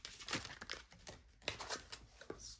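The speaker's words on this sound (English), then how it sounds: "Let's keep shuffling." A deck of oracle cards is shuffled in quick, crisp riffles and papery rustles, close and fairly quiet, with no one speaking.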